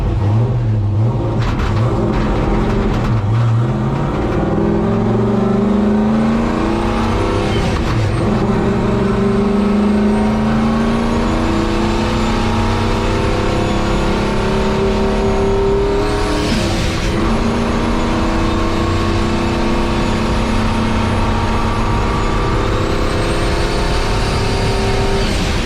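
A 1951 Chevy race truck's engine, freshly fitted with a turbo limited to about 8 psi of boost, roars loud and close, climbing through repeated hard revs and gear pulls with a steady throaty drone and no talking.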